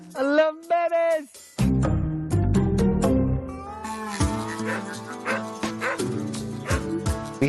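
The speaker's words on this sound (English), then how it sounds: "We haven't been able to catch all of the adults because they are wild dogs, they're feral dogs" Scared feral stray dogs bark and whimper, with high whining cries at first, then a burst of overlapping barks and yelps close by, mixed with a cat-like mewing.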